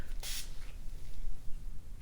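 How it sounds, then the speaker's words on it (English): A skincare hydration spray mist hisses onto the face in one short, close burst near the start, followed by quiet room tone. "I'll just spray this on top"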